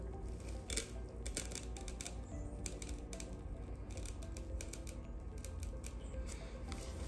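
A blade trimming a hair system base up to the hairline near the temple, quiet close snipping and scratching clicks in an irregular patter over a low room hum, with no talking.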